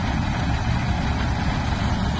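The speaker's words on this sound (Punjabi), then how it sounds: "ਟ੍ਰਿਪਲ ਸੀਡਿੰਗ ਕੰਬਾਈਨ ਦੇ ਨਾਲ ਜਿਹੜੀ ਆ ਕਣਕ ਦੀ ਅੱਜ ਬਜਾਈ ਹੋ ਰਹੀ ਹੈ" A triple seeding combine sows wheat in a field during the paddy harvest, using a PAU Ludhiana technique. Its engine drones steadily and loudly with a low rumble, with no voices.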